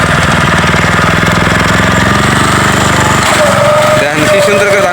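A paddy harvesting machine cutting rice in the field, its engine running loud and steady with a dense mechanical drone and chatter throughout, and voices talking over it.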